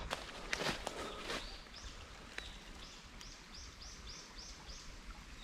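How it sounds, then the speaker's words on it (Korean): Repeated high chirping bird calls in a regular series, distant and light over a quiet morning forest trail on Chiaksan, with a few rustling steps early on. "새소리도 좋고"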